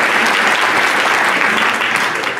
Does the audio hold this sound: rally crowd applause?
yes